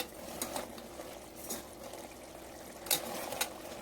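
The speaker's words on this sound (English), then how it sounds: "Stir in between as shown." Crab fry stirred in a pan, cooking in its own juices with only a little oil, gives soft scraping and clinking utensil sounds in a few brief strokes over a low steady sizzle.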